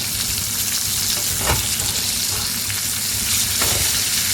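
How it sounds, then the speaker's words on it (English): Steak sizzles steadily in a butter-bathed pan, a loud continuous frying hiss with occasional brief crackles and spoon-like scrapes, no voices. "Your steaks are basically taking a butter bath at this point"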